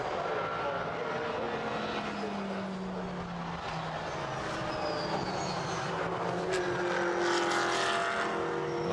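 GT race car lapping Silverstone at a steady pace during a Blancpain Endurance race, a sustained engine drone passing at mid distance with a rising and falling pitch, no voices.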